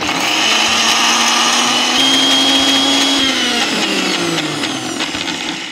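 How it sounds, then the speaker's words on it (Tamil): A mixer grinder whirs loudly and steadily as it grinds masala with curd into a fine paste for prawn ghee roast, a dense continuous motor roar whose pitch drops slightly near the end. "ஸோ இப்போ ஒரு நல்ல ஃபைன் பேஸ்ட் அளவுக்கு நம்ம வந்து கிரைண்ட் பண்ணி எடுத்துக்கலாம்"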